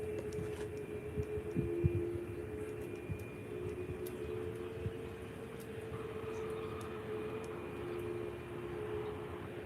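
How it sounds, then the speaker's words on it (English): An Aer Lingus airliner taxies at Faro Airport in Portugal, heard as a steady, distant jet engine hum with a continuous tonal whine, constant and unbroken under faint airport background noise. "So now the Aer Lingus is taxiing."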